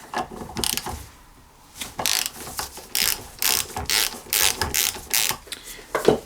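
Ratchet wrench clicking as it loosens a fuel injector on a rare diesel twin tractor, loud and close in quick repeated runs of ratcheting strokes.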